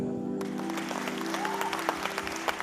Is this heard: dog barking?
no